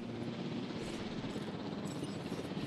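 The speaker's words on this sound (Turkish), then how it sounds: "Nerede o helikopter geliyor?" Helicopter arriving in the video game Jurassic World Evolution, a steady droning rotor hum held at even loudness throughout with no clear speech.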